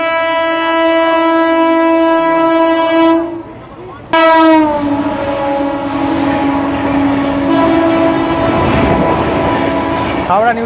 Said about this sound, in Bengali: হাওড়া নিউ জলপাইগুড়ি মানে জলপাইগুড়ি হাওড়া শতাব্দী এক্সপ্রেস।